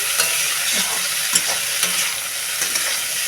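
Bitter gourd and potato frying in oil in a pan, a bright steady sizzle with occasional soft scrapes of stirring, near and continuous without speech.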